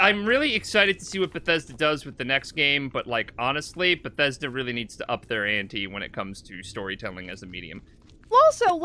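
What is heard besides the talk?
No distinct noise like a dog, phone or traffic.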